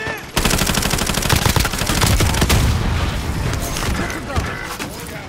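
Call of Duty Modern Warfare gunfire, loud and close, with rapid automatic bursts and booming shots that keep up for several seconds after a sudden start.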